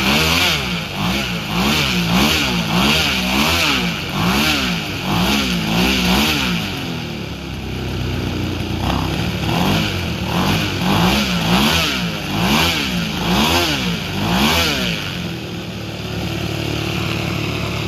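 A model airplane engine, an EME120 fitted with JMB Brecka canisters and headers, runs loud and close on a propeller with rising and falling throttle sweeps and repeated revving, then settles into a steady drone.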